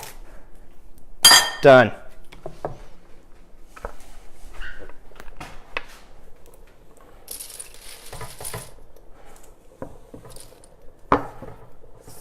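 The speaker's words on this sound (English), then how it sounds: "We've already trimmed the ends, so now we can just cut it down" Knife slicing a vegetable into bite-sized pieces for a veggie and sausage pasta, sharp chopping knocks on a board scattered with clinks of cutlery, close and moderately loud, with a brief spoken word.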